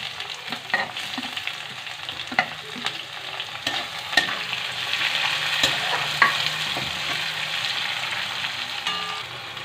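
Capsicum frying with tomato paste in a pan sizzles steadily and loudly up close, broken by frequent scraping stirs and spatula clicks, with no talking.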